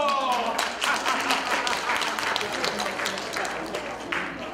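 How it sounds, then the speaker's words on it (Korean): Audience clapping at a community event welcoming a laughter coach, a busy patter of hands from a modest crowd, steady and moderately loud throughout, with voices mixed in. "자, 박수!"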